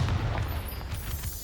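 A Confringo blasting spell in Hogwarts Legacy bursts in a heavy, low booming explosion, loud and close, with the rumble sustaining and rolling off over a second and a half.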